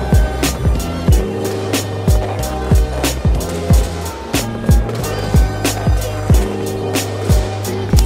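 A skateboard rolls back and forth on a ramp doing frontside kick turns, its wheels rumbling continuously with a regular rhythm of sharp clacks and thumps roughly every second, close and loud, with no talking.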